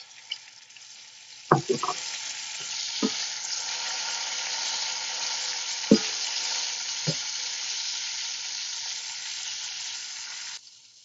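Chopped tomatoes hit a pan of half-cooked frying onions with a steady, bright sizzle that runs throughout, broken by a few sharp clanks of a spoon stirring against the pan.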